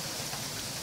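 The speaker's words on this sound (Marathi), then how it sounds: "पाऊस चालू झाला." Rain pours steadily outdoors near a college, a dense even hiss of drops on surfaces with no voices over it.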